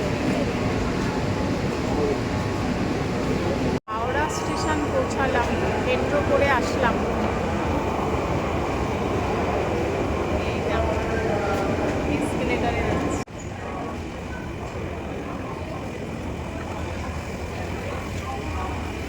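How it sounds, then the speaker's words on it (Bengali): Kolkata underwater metro train riding beneath the Ganga, a steady loud rumble of the carriage in motion with rattling and clatter throughout, brief dropouts, and indistinct voices under the running noise. "মেট্রো চড়লাম"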